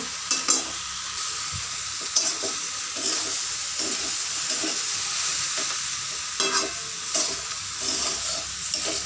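Cabbage curry cooking in a wok, with a loud, steady sizzle of frying throughout and repeated scraping stirs and light clatter on top, close up and with no talking.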